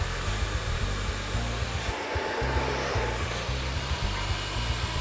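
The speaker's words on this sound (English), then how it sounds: "So again, utilizing the director on the dryer." Hair dryer fitted with a concentrator nozzle blowing hair during a smoothing blow-out, a continuous close whooshing roar with a brief dip midway as the airflow shifts.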